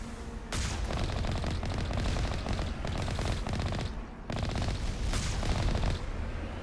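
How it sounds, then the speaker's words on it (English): An Alliance turret in the Mass Effect game fires long rapid bursts of automatic gunfire, loud and close, with a brief pause partway through before another sustained volley. "Oh, Alliance turret."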